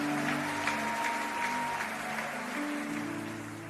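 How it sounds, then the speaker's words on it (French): A church congregation claps steadily and loudly for a few seconds during a service, the applause fading slightly at the end while a sustained music tone carries underneath. "Nous acclamons pour eux encore."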